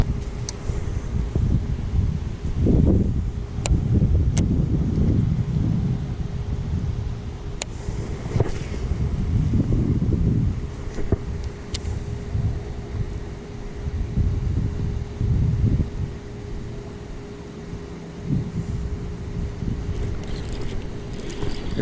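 Wind buffeting the microphone on a fishing boat, low rumbling gusts that rise and fall in bursts, with some rustling and light clicks throughout.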